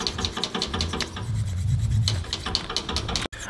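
A knife blade being sharpened on a Belgian whetstone gives off a steady rasping, rubbing scrape in repeated strokes, close and fairly loud, alone without talk.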